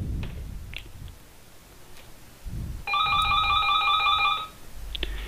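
A phone ringtone from a missed-call return app plays as a steady, loud electronic ring of repeated beeping tones lasting about a second and a half, with quiet clicks and low rumble around it.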